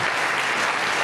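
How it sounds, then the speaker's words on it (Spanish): A brief, dense burst of applause from a church congregation giving praise to God, many hands clapping at once in a loud, even wash of sound. "Denle un aplauso al Eterno."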